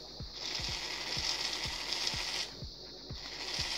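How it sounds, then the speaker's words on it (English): A small DC motor on a line following robot spins up with a steady high whine, while a regular ticking click repeats about twice a second underneath, close and fairly quiet, with no talk. "the motor starts turning"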